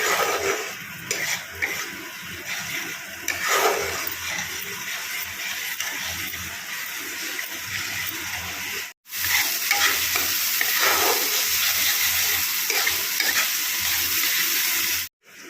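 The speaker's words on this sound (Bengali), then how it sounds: "আদা পেস্ট দেওয়ার পর হালকা একটু জল দিলাম" Ginger paste sizzles in a pan of shrimp and baby potatoes after a splash of water, a steady, close frying hiss with occasional spatula stirs, cut off by two brief silent breaks.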